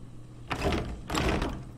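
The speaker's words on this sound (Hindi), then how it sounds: "दरवाजा बंद हो गया?" Two heavy, muffled door thuds sound in the horror game Resident Evil 7, the first rumbling briefly and the second a loud, close slam, with no talking.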